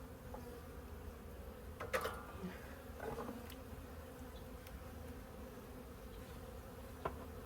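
Honeybees drone steadily at a double hive under mite treatment, a low continuous buzz with a few brief bumps and knocks over it; no one speaks.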